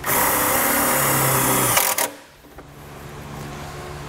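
A power driver whirs loudly and steadily for about two seconds, sinking a self-tapping screw into bare metal inside the taillight pocket of a 2022 Jeep, then stops abruptly, leaving quieter background hum.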